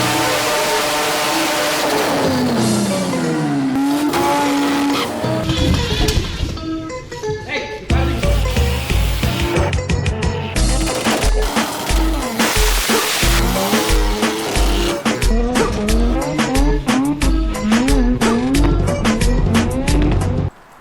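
Car nicknamed the Mystery Machine doing a huge burnout, engine revving hard in loud rising and falling sweeps with tire squeal layered throughout, close and continuous for about twenty seconds.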